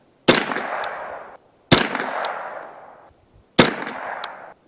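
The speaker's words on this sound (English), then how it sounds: "we'll shoot another mag of this stuff" Three sharp rifle shots from a custom Ruger 10/22 with a Kidd barrel, fired outdoors in wind, each a loud close crack that trails into a decaying echo, spaced about a second and a half apart.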